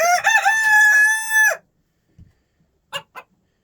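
A rooster gives one loud, close crow lasting over a second, followed by silence and a few soft clucks.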